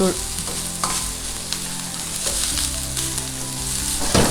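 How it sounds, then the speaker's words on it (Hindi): Egg fried rice is tossed in a pan over a high flame, making a loud, continuous sizzle with scraping stirs and a few clanks of the utensil against the metal, and no voices. "आप ये देख रहे हैं कि मैंने हाई फ्लेम पे इसको टॉस कर रही हूँ।"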